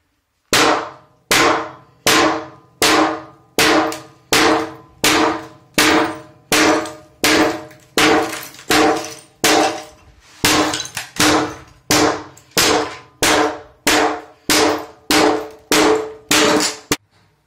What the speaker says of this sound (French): Je vais y aller avec le marteau, voir comment ça fonctionne.